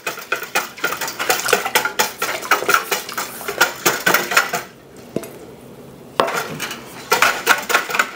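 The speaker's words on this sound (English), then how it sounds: "So I'm just gonna give this another good mix. Make sure that salt gets dissolved." Spoon stirring salt brine in a metal pot for pastrami, rapid rhythmic scraping and clinking, loud and close, pausing briefly midway before resuming.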